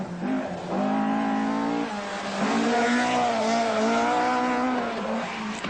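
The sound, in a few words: rally cars racing over tarmac roads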